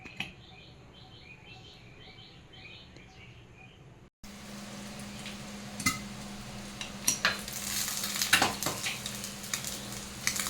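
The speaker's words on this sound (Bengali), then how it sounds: "এইভাবে আমি প্রত্যেকটা ডিম ভেজে নেব।" Eggs fry in hot oil in a pan with a steady close sizzle. A quieter opening with bird chirps gives way to louder crackling and spitting, broken by occasional sharp pops and clinks of a utensil.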